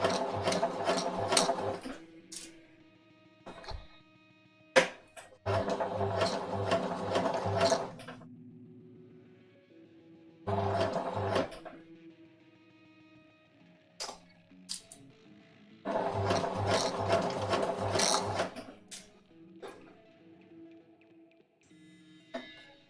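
A sewing machine stitching an undershirt, running in several bursts of rapid, even needle strokes a few seconds long, separated by pauses with faint handling noises, close and fairly loud.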